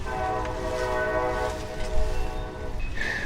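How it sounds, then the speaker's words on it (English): Moving trains rumble steadily at an urban nature preserve, with a sustained horn-like tone and clattering rail noise carrying through the whole stretch at moderate distance. "you're hearing moving trains in the background."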